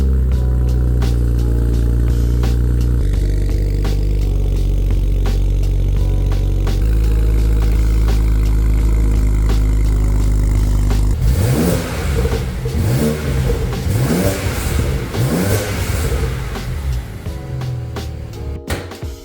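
A BMW 335i with the N54 twin-turbo 3-litre inline-six and automatic transmission idles steadily and then revs in a series of sharp blips, loud and close with no talking.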